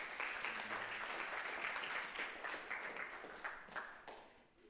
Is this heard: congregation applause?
yes